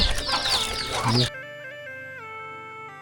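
Village chickens cluck loudly in a rural Thai yard alongside ducks, a busy burst of fowl calls and a possible crow that cuts off abruptly, followed by a faint tonal hum.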